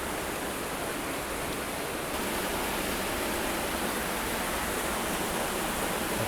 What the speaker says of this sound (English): Got water just dripping down the side